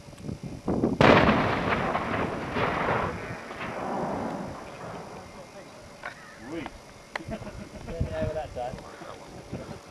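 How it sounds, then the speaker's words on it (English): An artillery gun fires once with a heavy, close boom whose rumble rolls away over several seconds, followed by quieter outdoor noise and people talking. "Firing!"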